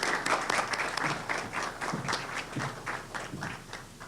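An audience at a cybersecurity and financial ecosystems event applauds to welcome a speaker to the microphone, with many hands clapping in a lively, slightly uneven rhythm that gradually thins and softens.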